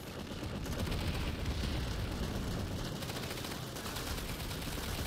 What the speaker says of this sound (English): What's shooting me? Fucking teammate shooting me, dude.